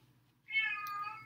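A house cat gives a single clear meow close by, rising and then holding briefly after a moment of near silence.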